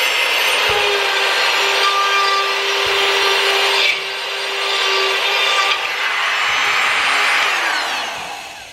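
A blade saws back and forth through drywall, cutting a hole for an electrical outlet while hanging drywall in a barndominium. The strokes are rough, loud and close, rasping in a steady rhythm with brief pauses.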